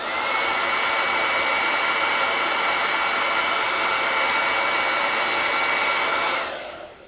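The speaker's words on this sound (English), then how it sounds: "now I'm just heating it and buffing it out" A heat tool blows steadily while warming wax on a painted rustic round welcome sign, a loud, constant hairdryer-like whoosh that holds for about six seconds and then cuts off.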